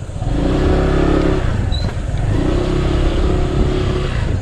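A motorcycle engine revs steadily and loudly at close range, its low drone rising in two sustained pulls with a short dip between them, set against outdoor street noise at a market.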